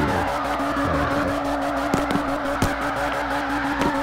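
A Nissan S14.5 drifting on a touge mountain road in CarX Drift Racing 2 squeals its tires continuously over a loud, steady engine drone, with a few sharp knocks along the way.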